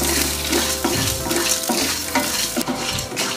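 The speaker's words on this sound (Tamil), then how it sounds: "இப்போ நல்லா வாட வர வரைக்கும் வறுத்துக்கோங்க" Chana dal, coriander seeds, ginger and dried red chillies sauté in a pan, crackling with a loud dense sizzle and constant close scraping of a spoon stirring the mix.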